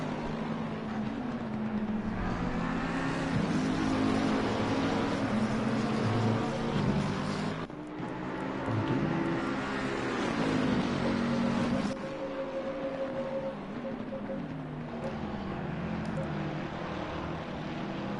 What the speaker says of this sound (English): I think I've turned down the engine sounds, hope it's not too low now.